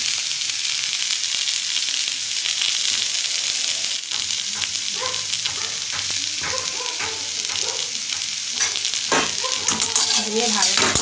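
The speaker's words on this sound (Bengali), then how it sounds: "উস্তেগুলো এবার একটু ভেজে নিই" Bitter gourd fries with salt in hot oil in a pan, producing a dense, continuous close sizzle with scattered clicks and scrapes from stirring.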